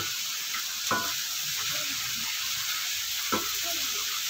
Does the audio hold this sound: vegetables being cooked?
yes